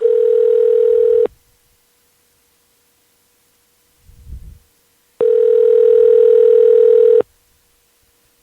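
A telephone ringback tone heard on an outgoing call: two loud, steady tones, each about two seconds long, separated by a long silence with a faint thump between them.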